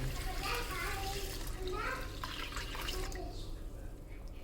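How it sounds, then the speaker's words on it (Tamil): Water poured from a vessel over soaking rice in a kitchen, making rice for idli and dosa batter, a continuous splashing rush that thins and eases toward the end, close by. "இதில் தண்ணி ஊற்றிடுறேன் நான்."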